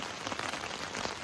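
Rain patters steadily on a tent while wild camping beside a tarn in the Lake District, a soft, even hiss of drops close by.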